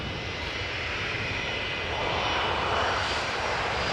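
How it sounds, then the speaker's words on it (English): A Boeing 737-800 airliner passes close by at Amsterdam Schiphol Airport, a steady broadband engine roar that swells slightly toward the end, loud and continuous with no talk. "we have a 737-800 that you're hearing in the foreground passing by"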